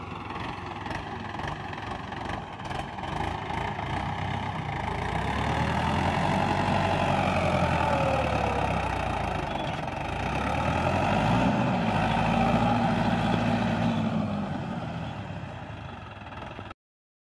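A tractor engine runs steadily while levelling a field, a continuous mid-low drone that swells and eases as the load changes, heard alone without talk.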